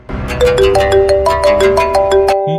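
A mobile phone ringtone plays alone and loud, a quick, bright melody of stepping notes repeating for a couple of seconds.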